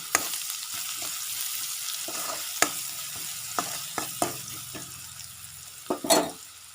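Onion fries in a pan with salt and coarsely crushed garlic, a soft steady sizzle punctuated by repeated utensil scrapes and taps, with a louder stirring burst near the end.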